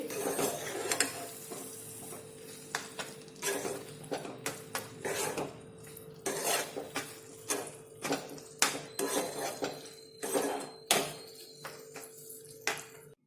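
Gram flour with green chillies is stirred in a pan for marcha no sambhar. A spoon scrapes and knocks against the metal in irregular, close strokes over a faint sizzle.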